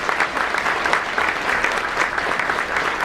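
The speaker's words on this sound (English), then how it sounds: "Please, with a round of applause," Audience at a company event applauding to welcome a speaker to the stage, a dense steady burst of clapping from a full room, close and continuous.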